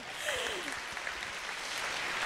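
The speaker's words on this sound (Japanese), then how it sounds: "文字通りの拍手をお送りください" Audience at a live talk event gives sustained applause, a dense, steady wash of clapping heard alone with no voices over it, with some whistling and shouts mixed in.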